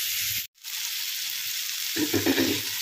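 Cauliflower frying in mustard oil with panch phoron, dried chillies and asafoetida, a steady close sizzle that cuts out briefly, then returns with scraping stirring sounds toward the end.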